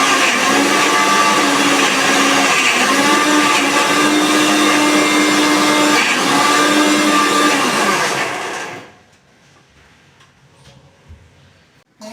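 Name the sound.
kitchen mixer grinder running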